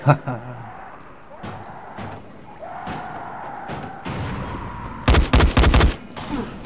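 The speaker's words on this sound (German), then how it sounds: "jetzt nehme ich glaube ich mal das Gewehr in die Hand" Rifle gunfire in the Dying Light video game: a few scattered single shots, then a loud rapid burst near the end, with someone speaking between the shots.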